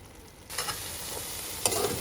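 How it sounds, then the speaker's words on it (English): Eggplant (baigan) frying on low heat in a pan, a quiet start that jumps into a steady hiss and sizzle, with a brief louder scrape of stirring near the end, no voices. "When I cook my baigan, I like my baigan to catch on the bottom a little bit. So I want to fry them very low."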